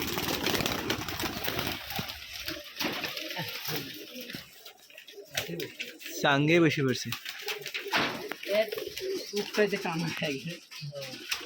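Flying pigeons coo in low, throaty bursts close by at an old pigeon farm in Rajshahi while someone talks over them, with the cooing rising clearly in the middle.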